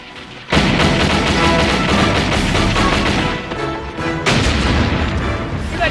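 Dense battle-scene gunfire and booming artillery from a film, loud and continuous after a brief quiet opening, with a short dip before the barrage surges again.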